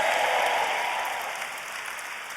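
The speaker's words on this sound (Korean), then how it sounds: "좀 크게 박수도 쳐야 해요" Church congregation at a Korean worship service applauding, a dense steady wash of clapping that fades gradually over a couple of seconds, no voices on top.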